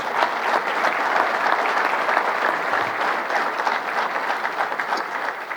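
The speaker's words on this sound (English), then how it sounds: "And let's give County Executive Mangano and County Executive Ballone a big round of applause." A large audience at a downstate infrastructure event bursts into loud, sustained applause for two county executives, thick overlapping clapping that stays strong and even from start to finish.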